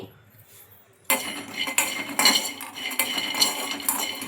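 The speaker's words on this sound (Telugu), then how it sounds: "ఇంకా ముందుగా ఒక కడాయి అయితే పెట్టుకొని అందులోకి పల్లీలు అయితే వేసుకుంటున్నాను." Peanuts fried with garlic cloves in a kadai, stirred with a metal spoon, giving clinking scrapes against the pan after a quiet start, close and fairly loud, continuing in uneven strokes.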